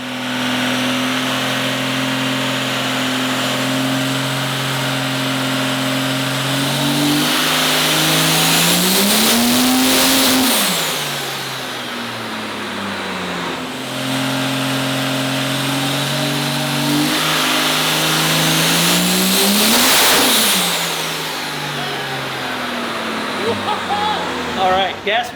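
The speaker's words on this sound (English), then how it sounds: "turn a couple kits of nitrous on and see if we can whack this thing into a big number" A nitrous-fed dragster engine on a dyno makes two loud, rising pulls that climb to a screaming peak and then drop off, separated by a rough idle, with voices around it.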